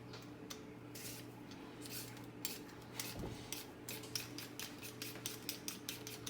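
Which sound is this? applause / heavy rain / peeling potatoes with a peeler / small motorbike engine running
peeling potatoes with a peeler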